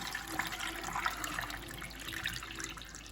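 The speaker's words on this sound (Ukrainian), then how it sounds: "ретельно змішали воду з содою та вливаємо до яєць" Baking soda solution poured from a container over chicken eggs, a continuous close trickling splash with small bubbly gurgles, steady and moderately loud, no talk.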